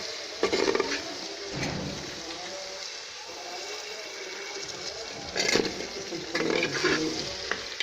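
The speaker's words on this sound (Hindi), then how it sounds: "ये आलू थोड़ी देर भूने जाएंगे। इसमें मसाले के साथ भून जाएगा।" Potatoes fry with masala in a pan, giving a steady sizzle with intermittent scrapes of stirring and clinks of utensil on metal throughout, with no talk over it.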